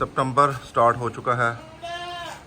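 On a goat farm at the start of breeding season, with a buck just released among the does, someone talks loudly up close, and a thin, wavering goat bleat follows near the end.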